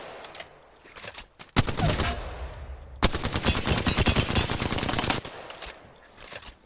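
Bursts of rapid automatic gunfire from the Apex Legends battle royale game, a short volley followed by a longer sustained stream of shots lasting about two seconds, loud and close over quieter game ambience.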